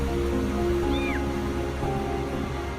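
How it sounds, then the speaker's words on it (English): A kitten near a river gives a single short, high cry, moderately faint over a steady rushing background. "Hearing a cat crying for help, they rushed over to look for the source of the sound"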